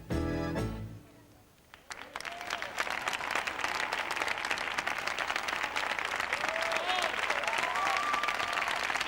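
At a 2003 European Championship dance final, prolonged audience applause for the group tango follows the fading end of the music, a dense, even roar of clapping building up and holding steady, with a faint voice underneath.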